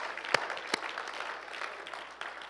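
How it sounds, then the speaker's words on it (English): A church congregation claps hands during a worship service. The soft, scattered clapping has a couple of sharper, louder claps near the start and continues at a low level throughout. "So we clap our hands"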